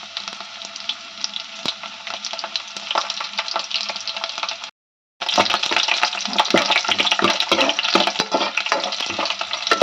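Garfish curry base sizzling and spattering steadily in hot oil in a pan, a dense close crackle broken by a brief silence midway, then resuming louder with stirring clatter.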